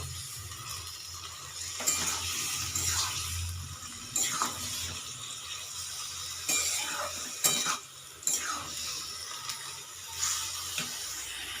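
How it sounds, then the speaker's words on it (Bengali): Marinated mushrooms are stirred, giving soft wet swishes and scrapes that come in several irregular strokes over a gentle background hiss, with no voices. "এবার ম্যারিনেট করা মাশরুমটা আমি এটা একটু নাড়িয়ে দেব"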